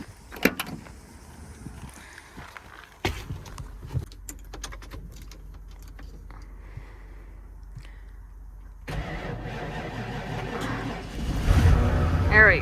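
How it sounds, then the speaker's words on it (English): A farm truck is started: clicks and clunks come first, then a cranking rumble, and the engine catches and revs up loudly near the end. "We're gonna fire up the farm truck before we take care of the horses here."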